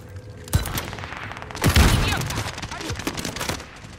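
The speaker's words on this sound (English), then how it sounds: "Those bastards are shooting at me!" Gunfire aimed at the player in Call of Duty Warzone: a sharp shot at the start, then a heavy close blast and rapid volley of rounds cracking through the middle, trailing into scattered further shots.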